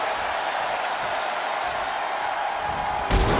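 Video game wrestling crowd noise from WWE 2K24, a steady roar of cheering and applause filling the whole stretch, with a brief louder burst at the end.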